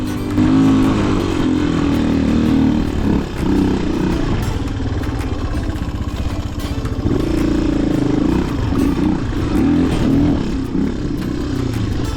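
A Honda XR200 motorcycle engine while riding, a loud, close, steady low thrum with shifting rev and rattly mechanical clatter throughout.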